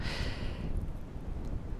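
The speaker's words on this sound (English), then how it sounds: "Sorry, I'm yawning." A single tired yawn, a breathy rush of air that swells briefly and fades within a second into quiet breathing.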